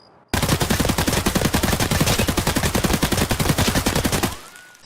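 M4 rifle firing fully automatic in the video game Escape from Tarkov, offline at low frame rate: one loud sustained burst of rapid, evenly spaced shots lasting about four seconds, then an abrupt stop, with no speech.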